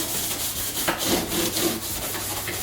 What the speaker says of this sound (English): Then I like to go in with this particular scrubbing brush.